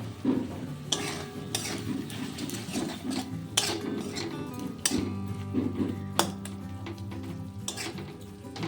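Onion-based spice masala, salted and sweetened with a little sugar, being stirred and fried in a pan for a kunduri (ivy gourd) curry: a steady low sizzle broken by repeated scraping strokes and metal clinks of the spatula against the pan, close and fairly loud.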